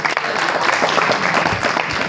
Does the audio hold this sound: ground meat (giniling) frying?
no